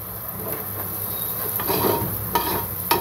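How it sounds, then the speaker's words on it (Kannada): Coriander and mint leaves fry in a pan with a soft, steady sizzle, broken by a few sharp stirring scrapes and taps toward the end, close up with no voices. "ನೋಡಿ ಎಲ್ಲ ಇವಾಗ ಫ್ರೈ ಆಗಿದೆ, ಕೊತ್ತಂಬರಿ ಎಲ್ಲನೂ, ಸಾರಿ ಪುದೀನ."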